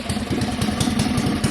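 A stock 420 cc engine with electric start runs just after firing up, giving a close, loud, steady chugging idle with an even pulsing beat.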